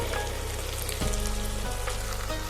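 Marinated chicken frying with spices in a kadai, a dense steady sizzle close up with a faint scrape partway through and no speech.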